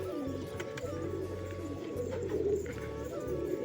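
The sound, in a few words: pigeon cooing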